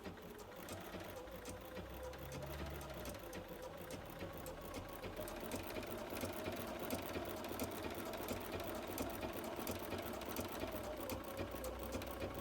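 Bernina 770QE sewing machine stitching appliqué, a steady rapid mechanical whirr and needle chatter running continuously, fairly faint and close, with no talking.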